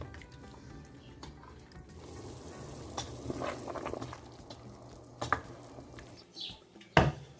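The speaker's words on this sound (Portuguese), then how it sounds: "eu vou esperar cozinhar todos os temperos aqui por uns 10 minutos" A pot of broth with seasonings simmers and sizzles softly, with scattered clinks and scrapes of a utensil against the pot, and a few sharper knocks toward the end.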